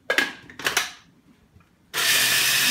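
Gluten-free rolled oats, three cups, ground into flour in a blender, with two short whirring bursts followed by a steady, loud, continuous grinding roar.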